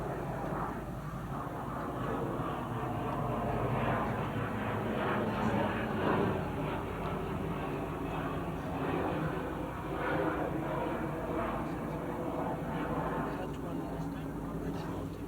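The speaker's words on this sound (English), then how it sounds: "The aeroplane must have its voice too, so let's listen to it." A fixed-wing aeroplane passes overhead during an outdoor public discussion at Brockwood Park in 1973, its steady broadband engine roar holding fairly loud and even for the whole stretch, with no voices over it.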